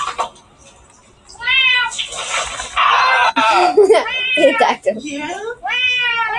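A cat's repeated drawn-out meows, loud and close, mixed with voices talking and laughing as a funny cat clip plays.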